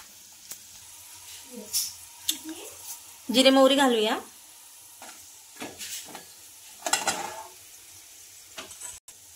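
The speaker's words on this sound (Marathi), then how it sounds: "आपले यामध्ये जिरे मोहरी घालूया।" Cumin and mustard seeds hit hot oil for kanda pohe, a quiet backdrop broken by scattered crackles and sharp pops, with one louder spitting burst near the middle.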